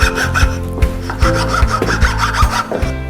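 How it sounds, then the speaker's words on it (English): A hand file rasps back and forth, cleaning wood between freshly cut dovetails, in a series of loud, rhythmic close strokes roughly every half second with no talk. "I'm going to use a file to clean out the areas in between"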